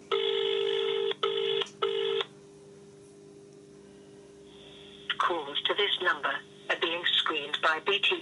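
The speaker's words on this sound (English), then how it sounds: "let's see what happens when we receive a call from an unknown caller" A BT Decor 2600 telephone rings with an incoming call from an unknown caller: three loud electronic ring bursts close by, then a pause before a voice speaks.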